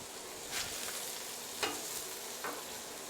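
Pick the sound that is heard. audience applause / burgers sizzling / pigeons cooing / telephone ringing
burgers sizzling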